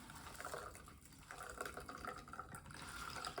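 A martini is poured into a chilled glass, a faint steady trickle of liquid with small splashes and bits of ice.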